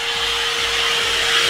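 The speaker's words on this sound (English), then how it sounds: "Emma, you're not hoovering them up" A vacuum cleaner runs loudly and continuously at close range in a home, its steady whining motor roar unbroken throughout with no voices.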